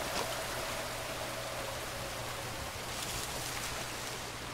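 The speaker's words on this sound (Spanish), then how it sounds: "Hay una cascada." A steady rush of falling water in the video game Sea of Thieves, soft and even like a distant waterfall, continuing without pause and with no voices.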